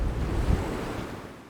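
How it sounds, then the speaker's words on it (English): A windy, overcast day by the sea off Jeju Island: a loud rushing gust of wind buffets the microphone alongside surf, swelling briefly then fading away. "Yeah, it's pretty windy today."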